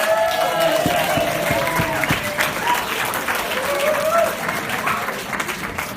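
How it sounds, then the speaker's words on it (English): Wedding guests at a reception give the couple a loud round of applause during the best man's speech, the dense clapping mixed with cheers and voices from the crowd. "So everybody give a round of applause for us"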